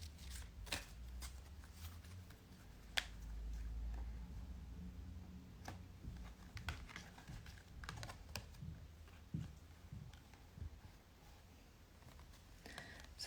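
Tarot cards being shuffled and pulled during a live reading: quiet, close, irregular papery riffles, flicks and taps over a low background hum, with no talking.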